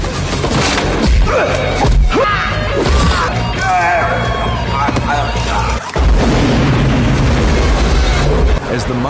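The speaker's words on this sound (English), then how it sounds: "As the mine starts collapsing around them, Jack fights his way out to safety" A mine collapsing during a movie action scene, heavy booms, crashes and rumbling debris mixed with music-like tones and a voice underneath, loud throughout with a brief dropout midway.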